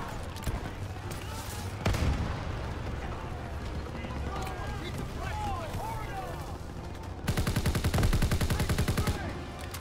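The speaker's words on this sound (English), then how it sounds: "What is shooting at me?" Gunfire and artillery from the World War II shooter game Call of Duty: WW2, with dense battle noise throughout that swells into loud, rapid automatic bursts near the end.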